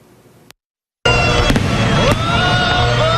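After a brief silence, fireworks burst with sharp cracks followed by a dense, crackling shower of sparkling pops that keeps going.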